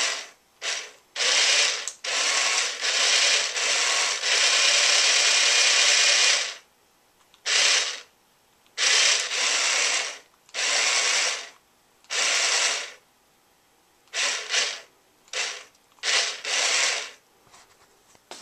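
Small electric motor of a homemade radio-controlled predator decoy covered in camouflage Tyvek, whirring loudly and close in repeated bursts, a long run followed by shorter on-off pulses with brief silences between.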